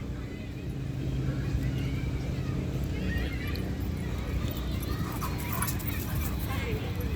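Dogs at an off-leash dog park, including a Cane Corso and a big Chihuahua, make a steady busy racket with what seem to be barks and yips mixed into constant background noise and voices throughout.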